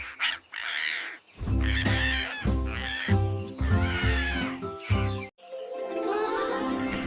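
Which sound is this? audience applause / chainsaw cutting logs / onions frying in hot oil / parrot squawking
parrot squawking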